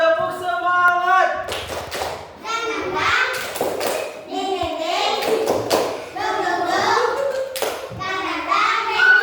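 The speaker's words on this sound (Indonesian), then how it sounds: "Kelompok pertama tepuk semangat." Classroom children chant the tepuk semangat cheer together in a bright, rhythmic sing-song, with crisp bursts of group hand claps recurring between their voices.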